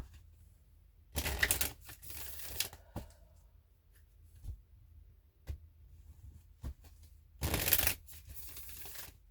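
Cards are shuffled in two quick riffling bursts, with soft taps and card handling in between, close and fairly quiet.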